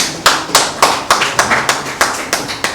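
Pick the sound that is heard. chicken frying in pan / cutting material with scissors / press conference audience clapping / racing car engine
press conference audience clapping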